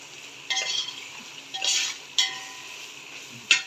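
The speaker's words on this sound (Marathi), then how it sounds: "आता ह्याच्यामध्ये दही टाकायचं आहे आपल्याला" Yogurt goes into spices frying in a pan for chicken pulao, followed by a few quiet separate bursts of spoon stirring and scraping with soft sizzling, spaced out over a faint background.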